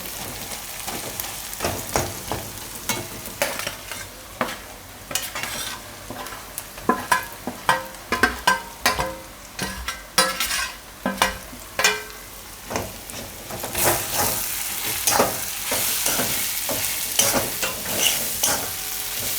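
Eggplant and fenugreek curry with spices is stirred in a pan, giving a long series of close scraping strokes in irregular rhythm over a constant background sizzle that grows louder toward the end.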